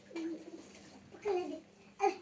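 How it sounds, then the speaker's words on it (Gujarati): Pigeons perched in a group coo in a few short, soft bursts close by, with quiet gaps between calls and faint background noise. "એકદમ સરસ મજાના કબૂતર બેઠા છે."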